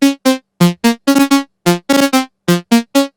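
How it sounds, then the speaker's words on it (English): A dry synth lead built in Serum plays a choppy melody of short, detached notes in quick bursts with silent gaps between them, loud, close and free of reverb or delay. "the sound that I have here was made on Serum and sounds like this."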